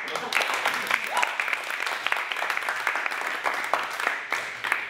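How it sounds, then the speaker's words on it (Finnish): Applause from an audience at an improv comedy show, a scattered burst of clapping from a small crowd that holds steady for several seconds with sharp individual claps audible. "Annetaan aplodit."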